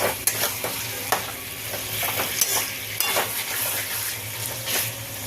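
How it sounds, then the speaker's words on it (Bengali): Chicken sautéed with spice paste in a pan, a continuous close sizzle broken by repeated scraping taps of a spoon stirring against the pan. "ভালো করে মশলাটা কষাবো। খুব ভালো করে এবার আমি টাইম নিয়ে একটু কষিয়ে নেব।"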